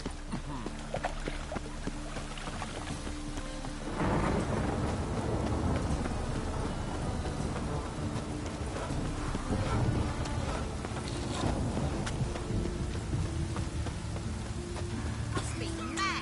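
Rain and a rumbling thunderstorm in The Witcher 3, with wind and steady rainfall swelling after a few seconds, heavy and continuous, while a character's voice speaks over parts of it.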